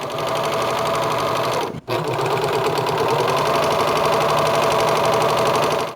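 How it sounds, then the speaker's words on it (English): A serger sewing machine runs continuously while serging the edges of front pocket pieces for a pair of shorts, a close, loud, rapid mechanical chatter with one brief pause early on and no talking. "While I've got my machine out, I might as well serge the various components for the front pockets."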